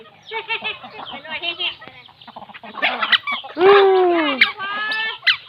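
Chickens cluck and squawk close by at feeding time as grain is scattered, with one loud drawn-out call near the middle, mixed with scattered voices and rustling.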